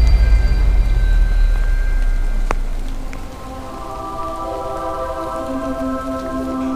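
Rain falls steadily on an outdoor fishing spot, a continuous broadband hiss with a low rumble, joined by a sharp knock and faint whining tones; no one speaks.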